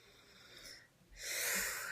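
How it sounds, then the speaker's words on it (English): Someone takes slow, deep breaths during a guided relaxation moment, a soft airy inhale swelling into a louder, breathy exhale, close and unaccompanied by talk. "just take a few deep breaths"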